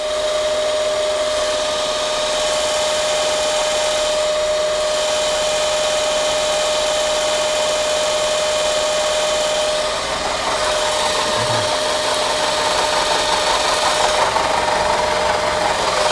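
An end mill cuts steadily into metal, producing a continuous, loud grinding hum with a sustained tonal whine that holds throughout without pause.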